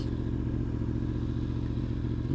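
A Yamaha R1M sport motorcycle being ridden, its engine giving a steady, dense droning rumble with constant wind and road noise throughout, close and continuous, no speech.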